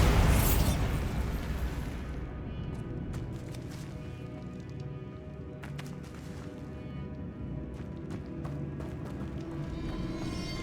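A Bombarda blasting spell bursts at the opening of a Hogwarts Legacy game scene, a loud explosive boom that decays into a long rumbling roar with scattered crackling debris, no talking.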